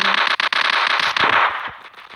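Rapid bursts of gunfire in an online shooting game, loud and dense with crackling shots that thin out toward the end, with no talk over them.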